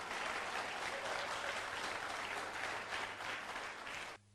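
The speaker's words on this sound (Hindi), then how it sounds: "हाँ मारिए ताली, जोरदार ताली मारिए बस।" Sustained applause from a seminar audience at a motivational talk on the laws of success, a dense steady wash of clapping filling the whole stretch and cutting off abruptly at the end, with no talking over it.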